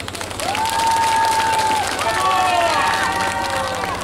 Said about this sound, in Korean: 회원들께 박수 한 번만 주십시오